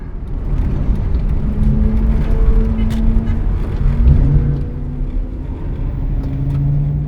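Ford Mustang engine drones steadily and loudly from inside the car while driving on a road, a continuous rumble with a slight rise and fall in pitch and no talk.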